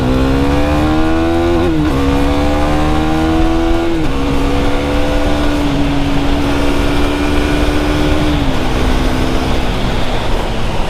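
A KTM Duke 390 single-cylinder motorcycle engine droning steadily while ridden on the highway, its pitch rising through the gears with brief drops at each shift, loud and close against constant wind noise throughout.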